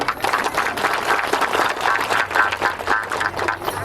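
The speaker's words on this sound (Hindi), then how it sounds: "एक बार बिशु जी जो बहुत दूर से आए होते हैं ताली होना चाहिए।" A crowd at a tribal Sarna religious prayer gathering applauding, dense rapid clapping sustained throughout at a fairly loud, steady level.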